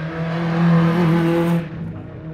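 Hill climb race car, an Evo numbered 127, at the 2010 Buzet event: a loud, close, strained engine note holds high revs for a moment, then cuts off abruptly as the car passes and leaves faint background noise.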